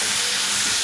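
Soybean chunks and potatoes, added without prior frying, sizzle steadily in a pan as they are sautéed with spices, a continuous bright hiss with no talk.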